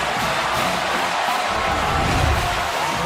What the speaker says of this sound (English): Now the crowd's alive.